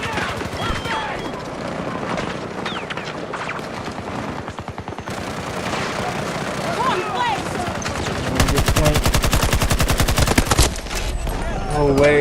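Rapid gunfire from Battlefield 2042 played on PS5, bursts of automatic fire building into a loud sustained volley near the end, with game noise and a voice talking over parts of it.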